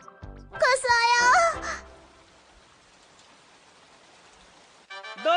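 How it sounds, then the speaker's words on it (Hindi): Cartoon rain, a steady hiss of falling drops that holds alone through the middle, framed by animated character voices speaking before and after it. "ये बारिश क्यों हो रही है?"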